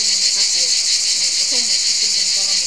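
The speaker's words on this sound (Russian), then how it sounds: "Большая часть дороги проходит под пение цикад" Cicadas sing along a trail in the Utrish nature reserve, a dense continuous high buzzing chorus that stays loud and unbroken throughout, with no voices over it.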